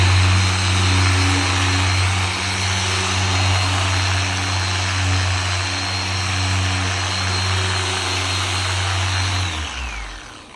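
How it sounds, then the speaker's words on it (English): A machine polisher buffs the hood of a black 2023 BMW X5, a loud continuous motor whine with a steady hum that holds for about ten seconds before winding down at the end. "performing this exterior buff on a hood this long and this wide"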